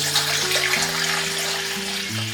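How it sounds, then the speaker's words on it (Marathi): Water runs into a pot to be boiled, a short close gushing pour whose tone rises in steps as the vessel fills. "आपण पाणी उकळण्यासाठी टाकूयात. 3 तांबे लागतील इतकं पाणी घातले."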